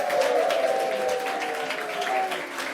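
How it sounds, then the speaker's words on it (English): An audience at an awards event applauds in a steady wash of claps lasting a few seconds, with a faint tone running underneath. "Please give a big round of applause"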